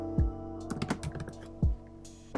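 Keys clack on a computer keyboard in a short run of irregular taps, close and clear, with a couple of heavier thumps among the lighter strokes.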